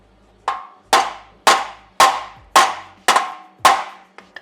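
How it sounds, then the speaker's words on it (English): Seven sharp, ringing hammer blows flatten metal on a Nissan 350z steering rack mount, struck at an even rhythm about half a second apart, close and loud, with a few lighter taps at the end. "I usually just take a hammer and flatten"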